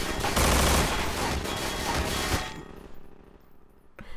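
Rapid bursts of gunfire from the video game Estranged, a dense loud fusillade for about two seconds that then cuts off, leaving a quieter ambient tail and a faint click near the end.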